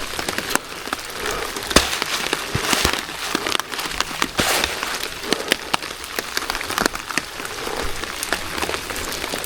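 Steady rain falling at night at an off-grid cargo trailer campsite in wet weather, a dense continuous patter with sharp individual drop hits and crackles, fairly close and with no talking.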